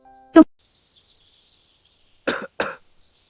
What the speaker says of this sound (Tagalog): Parang panay lang ubo mo mula pa kanina ah